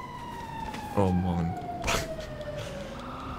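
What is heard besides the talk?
fire engine siren in the video game GTA V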